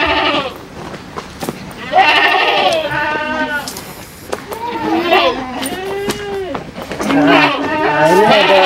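Goats in a pen at a military base, repeated wavering bleats from several animals overlapping one another, near and loud, with people talking among them.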